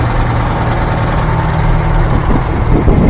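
A truck engine idling close by, a steady low rumble with constant vibration and no voices.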